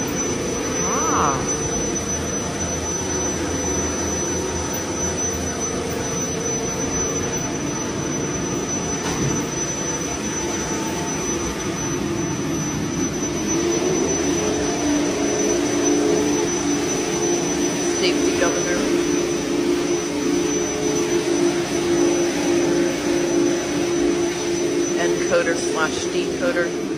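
A tiny 800 FPM Montgomery/Schindler DC gearless traction elevator machine running in its machine room, giving a loud, continuous droning rumble with a thin, steady high whine on top.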